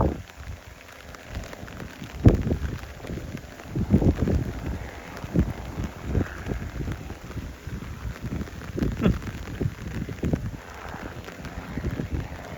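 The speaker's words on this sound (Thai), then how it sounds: "ตอนนี้คือฝนตกแล้วนะ" Steady rain pattering on a hard surface, close and fairly loud, with heavier drops and splashes scattered throughout; no one speaks.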